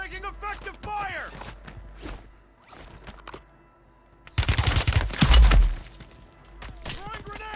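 Gunfire and explosive bursts from a Call of Duty battle, with loud bangs clustering midway and heavier blasts near the end, while radio-style voice callouts sound before and after the firing.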